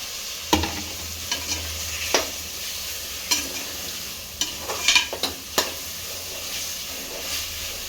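Two large onions sautéing in oil for tomato rice, a steady soft sizzle with several sharp stirring scrapes and clinks of a spoon against the pan, close up with no talking.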